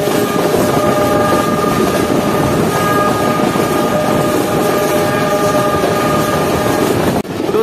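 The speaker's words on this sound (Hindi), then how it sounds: "ट्रेन हमारी एंटर हो चुकी है वजीराबाद में, पूरे 6:05 पर" Pakistan's first privatized rail car train pulls into Wazirabad station, a loud continuous rumble with sustained horn-like tones riding over it, ending in a sudden drop and shift near the close; no voices.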